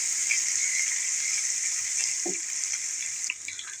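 Garlic-ginger paste browns in a pan with a steady, close, bright sizzle that holds evenly throughout, briefly dipping near the end.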